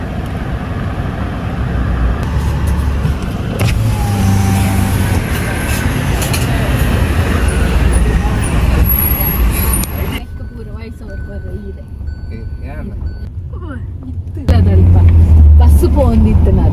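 A bus passes along a road, its engine rumble and broadband road noise filling most of the stretch. Voices talk over it, it eases briefly, then a louder close rumble returns near the end.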